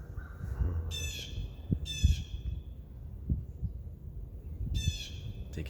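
A crow gives three harsh caws spaced a couple of seconds apart, clear and moderately near, over a low outdoor rumble with no talk.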